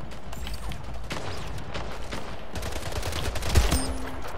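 Shotgun blasts and other gunfire echo through a match of the video game Splitgate, with rapid overlapping shots and mechanical clicks under a busy game soundscape.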